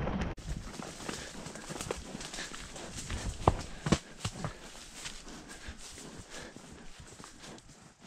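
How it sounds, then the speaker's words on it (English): A horse canters along a countryside trail during autumn trail hunting, hooves drumming in a quick, uneven rhythm with sharp thuds, accompanied by faint birdsong and light rustling around it. "I'm gonna just canter up with them."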